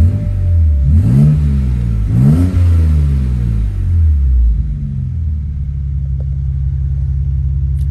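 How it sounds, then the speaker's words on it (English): A BMW E90 with a built motor cranks, fires up and blips its revs twice, deep rumbling surges close by, then settles into a steady low idle, no voices. "The car starts and it sounds all right."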